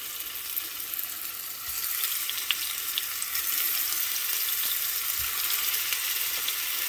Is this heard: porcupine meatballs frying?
yes